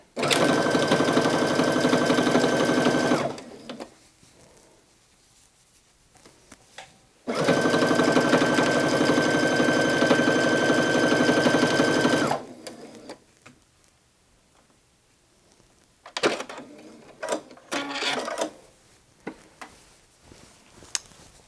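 A sewing machine stitches a hood placket in two long, loud, steady runs of rapid mechanical whirring, separated by quiet pauses, followed by shorter intermittent bursts of handling and machine noise near the end.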